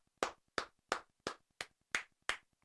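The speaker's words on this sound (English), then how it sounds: "we'll give him a few claps anyways" A lone person claps slowly and evenly, seven crisp, close hand claps spaced about a third of a second apart in an otherwise quiet room.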